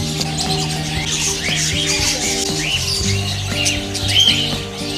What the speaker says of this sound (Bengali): কত প্রজাতির পাখি!